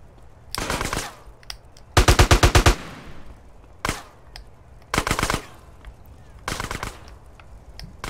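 GTA game gunfire rattles in several short loud bursts of rapid shots, separated by brief quiet gaps, with a player's voice talking in between.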